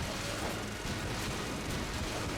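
Rocket explosions from the video game Enter the Gungeon form a dense, rumbling barrage of booms and blasts that runs continuously and sits fairly quiet in the mix.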